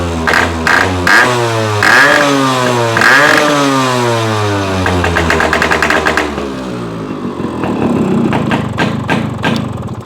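A Yamaha RX motorcycle's two-stroke engine, close and loud, is revved up in repeated rising bursts, then settles into a crackling, popping idle with a few sharp blips.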